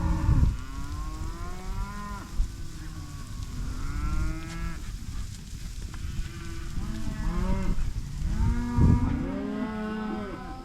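Angus cattle lowing in a pasture, several overlapping moos rising and falling in close succession, loud and near, with no talking.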